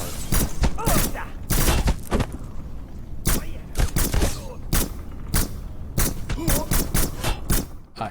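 Gunfire in the shooter game Black: rapid bursts and single loud shots crack repeatedly across the clip, close and punchy, with someone talking over the shooting between bursts.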